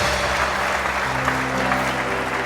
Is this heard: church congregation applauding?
yes